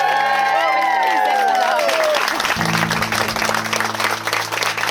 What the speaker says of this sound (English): Can we have a huge round of applause and big cheer for the